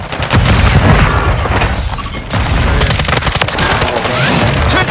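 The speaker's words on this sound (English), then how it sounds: "Holding! Throwing grenade!" A grenade blast in Modern Warfare 3 gives a loud, close boom with crackling debris, followed by a brief dip and then more rumbling bursts and gunfire-like pops continuing to the end.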